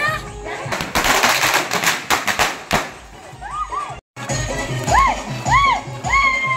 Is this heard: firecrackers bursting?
yes